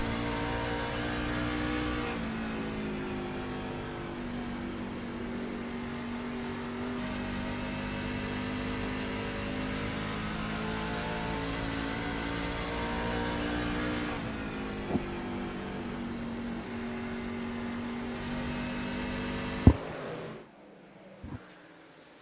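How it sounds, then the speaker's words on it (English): A racing truck's engine drones loudly and steadily as it accelerates out of a corner at Iowa during a Maximum Velocity Racing round, its pitch shifting gradually, with a brief sharp knock near the end before it cuts off. "the throttle out of the corner there, trying to get the power down smoothly without getting that truck loose"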